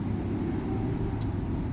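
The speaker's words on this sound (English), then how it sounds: "That's traffic behind me if you heard that," Road traffic rumbles outdoors as a steady, low, fairly quiet drone of passing vehicles, with no clear individual pass-bys.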